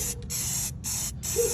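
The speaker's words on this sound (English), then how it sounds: "I like to copper coat my gasket, so a little copper coat never hurt nobody." Aerosol copper coat spray is applied to an exhaust gasket during a long tube header install, heard as three close, even hissing bursts separated by short pauses.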